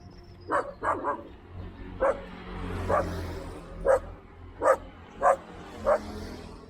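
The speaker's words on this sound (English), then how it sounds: "One angry dog." An angry dog barks repeatedly at a distance beside a road, about eight sharp barks in uneven bursts, moderately loud over steady outdoor ambience with a low rumble of passing traffic.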